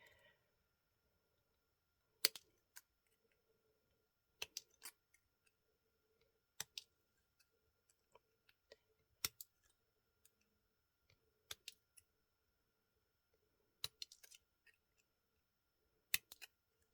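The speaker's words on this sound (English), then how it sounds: "So cut, move your flower with the cut." Scissors cut through thin beer bottle cap metal to shape flower petals, giving sharp isolated snips in small groups of two or three, spaced about two seconds apart, close and quiet against a near-silent background.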